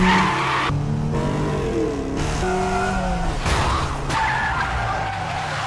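Film car chase through streets and dense housing: loud, sustained tire squeals and skidding screeches in several bursts over a roaring engine, close and intense with no speech.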